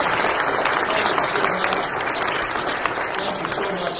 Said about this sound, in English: Let's give our moms a round of applause.